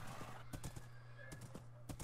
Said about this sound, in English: And man, this guy's kind of stupid. Stupid horse.